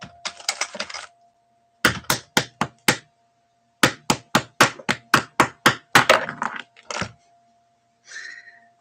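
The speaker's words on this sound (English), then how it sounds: "it literally sounds like an upholsterer or a carpenter working. hammering." Rapid hammer-like taps, as from an upholsterer or carpenter working, come in quick bursts of sharp close strikes separated by pauses, over a faint steady hum.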